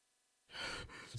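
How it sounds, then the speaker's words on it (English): Harsh, ragged breathing in a dim fantasy setting of collapsed stone, a single strained gasping breath surging up after a moment of near silence, close and alone. "There is harsh breathing."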